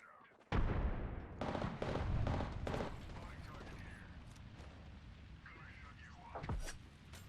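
Grenade explosions and gunfire in the Apex Legends battle royale game: a loud blast opens, followed by rapid bursts of shots, then a softer rumbling tail with scattered later hits.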